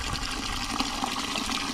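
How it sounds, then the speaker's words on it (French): Water gushes from an outdoor tap through a hose into a bucket for watering donkeys in winter, a loud, close, continuous rushing and splashing fill. "L'eau coule, remplit le seau."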